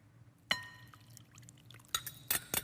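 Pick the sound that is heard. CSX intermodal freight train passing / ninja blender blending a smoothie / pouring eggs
pouring eggs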